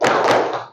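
A short burst of many students clapping together in a classroom, a loud dense smattering of hand claps lasting under a second before fading out.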